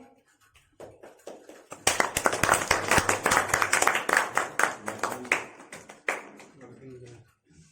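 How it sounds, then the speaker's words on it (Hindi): Audience at a solo stage play in Patna breaking into applause, starting with a few scattered claps, swelling into loud dense clapping, then thinning out; voices are heard briefly at the start. "एक बार जोरदार ताली।"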